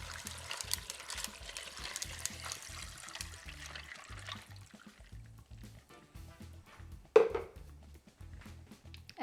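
Water pours and trickles steadily into a stainless steel bowl of ice close by, a splashy rush that thins out toward the end, with one sharp clink partway through.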